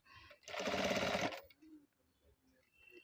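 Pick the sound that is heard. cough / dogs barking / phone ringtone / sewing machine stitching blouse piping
sewing machine stitching blouse piping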